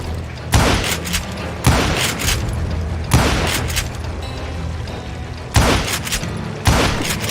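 Gunshots in Call of Juarez: Gunslinger, five heavy booming reports spaced about a second apart, each with a rumbling tail over a steady background din.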